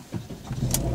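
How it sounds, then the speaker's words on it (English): A Volvo car engine starts in a brief, quiet moment, with a short low cranking rumble that catches and settles into a soft idle. "engine start"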